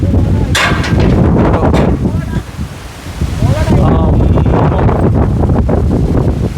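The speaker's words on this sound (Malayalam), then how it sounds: "ഓ നല്ല കാറ്റാ കാറ്റോട് കാറ്റ്" Strong monsoon wind at Kakkadampoyil buffets the microphone in loud, roaring gusts, with people talking close by over the noise.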